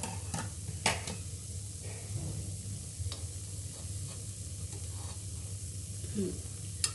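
Button pizzas sizzle softly in a covered pan, a steady low frying hiss with faint occasional clinks, no talking.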